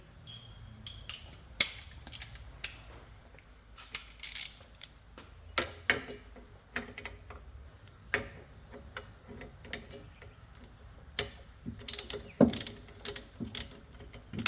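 Ratchet wrench loosening bolts on the rear axle of a Subaru SVX, a series of quick clicking and ratcheting bursts with metallic taps and tool clatter, close and fairly loud in a workshop, with faint voices in places.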